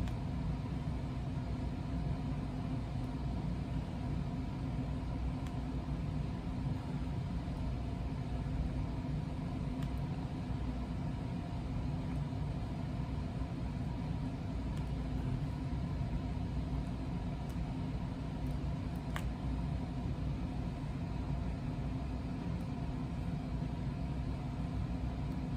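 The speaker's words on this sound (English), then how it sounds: "I didn't realize how loud the heat was when it kicked on" A home heating system gives a steady low rumble that hums on without change, an even mechanical drone indoors with no voices.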